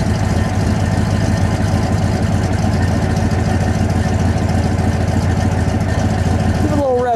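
A 1961 Chrysler 300G convertible idles on a cold day, a steady, loud, close engine rumble with an even pulsing beat throughout, and a faint voice near the end.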